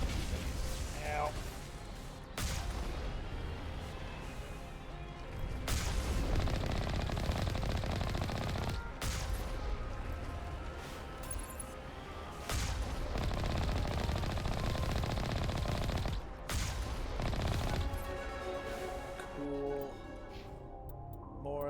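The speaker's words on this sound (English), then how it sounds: "Stop shooting me in the leg." Video game gunfire rattles in rapid automatic bursts, broken by short pauses, under and between bits of speech and game sound effects.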